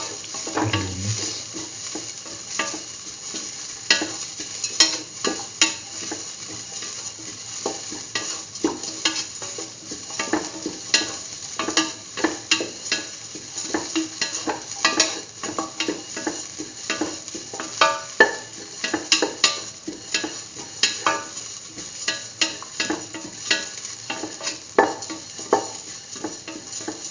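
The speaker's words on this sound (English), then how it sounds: "Thoroughly mix." Spoon scraping and stirring curried egg and mung bean stew in a sizzling pan, a steady run of soft clinks and scrapes over a constant fry hiss, close up with no talk.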